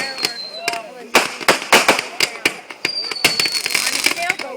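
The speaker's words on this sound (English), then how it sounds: "We went to cruise around St. Martin's to see the fireworks" Fireworks burst in a rapid series of sharp, loud cracks and bangs with whistling rockets, seen from a boat cruising off St. Martin's, while people talk over the display.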